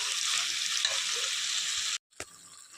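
Ground onion, garlic and boiled potato sizzle hard in a pan for about two seconds, then the sound cuts out abruptly and a few quieter stirring sounds follow.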